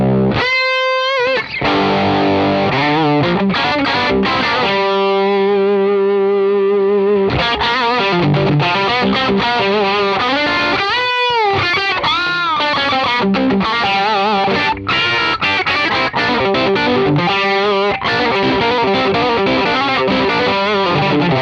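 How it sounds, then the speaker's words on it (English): A humbucker electric guitar runs through the Axe-Fx III Blues OD drive, modeled on a Marshall Blues Breaker, with the tone turned fully down. Loud, continuous overdriven chords and riffs ring close up for about twenty seconds, with no talking. "one of my favorite drives is the Blues OD, which is based around a Marshall Blues Breaker."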